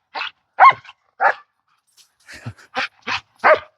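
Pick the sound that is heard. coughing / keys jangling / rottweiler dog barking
rottweiler dog barking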